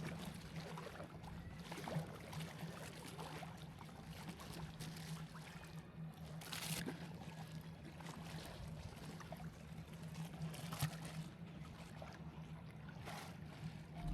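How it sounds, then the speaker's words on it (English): A kayak paddle dipping into calm water near the Louvre Abu Dhabi, soft intermittent splashes and drips over a quiet low hum, close and gentle, with no talking. "You hear the paddle touching the water"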